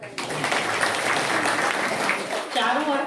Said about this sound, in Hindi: होली मतलब ताली बजाओ भाई।